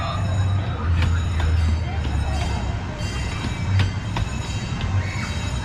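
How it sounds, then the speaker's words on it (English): The Storybook Land J&J Railroad amusement park train ride rumbles along with steady wheel noise, occasional squeals and clanks, fairly close, while people talk over it. "There's the Storybook Land, J&J Railroad"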